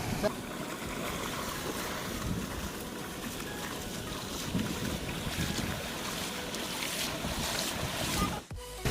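Steady rushing water with broadband wash throughout, like a flowing river near a waterfall, continuous and fairly loud with some wind noise on the microphone.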